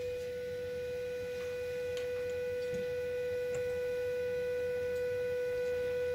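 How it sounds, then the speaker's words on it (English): A pure sine tone from a phone tone generator app holds at one steady pitch for the whole stretch, continuous and unwavering, with a few faint ticks in the background and no talking. "Now I'm going to use a tone generator on my phone"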